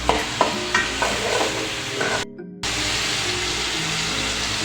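Onions and chillies stir-frying in a pan for okra bhaji, a steady close sizzle with scraping stir strokes near the start, a brief drop-out midway, then continuous frying hiss.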